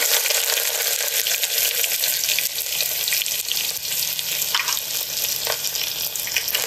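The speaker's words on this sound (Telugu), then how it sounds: "మనం సన్నగా కట్ చేసుకున్న ఆనియన్స్ వేసుకుందాం" Thinly sliced onions sizzle steadily in hot oil with a bay leaf and spices in a pan, a continuous close, bright frying hiss with faint stirring clicks and no talk.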